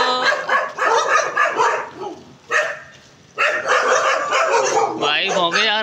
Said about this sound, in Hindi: भाई भौंके जा रहे हैं तो डेंजर फेलोस